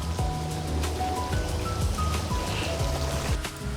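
A mountain stream at a campsite flows in a steady, close rush of water with light trickling and splashing throughout.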